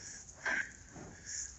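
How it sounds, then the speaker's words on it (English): A bull sniffs at a cow in heat, giving two or three short, breathy sniffs and snorts up close with quiet farmyard background between them. "And he's got help sniffing her."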